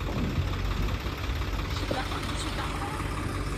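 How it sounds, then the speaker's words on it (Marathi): A JCB excavator's diesel engine runs steadily at a low, rumbling idle-like drone while it pulls a stuck tractor, continuous throughout with no clear talk over it. "ते ट्रॅक्टर ओढत आहे JCB ने"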